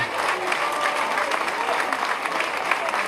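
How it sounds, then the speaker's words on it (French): Sustained clapping fills a university ceremony hall as the audience honors a professor, a thick even wash of many hands with faint voices threaded through it. "Des applaudissements, mesdames, messieurs, pour le professeur Abdoulaye Cissé."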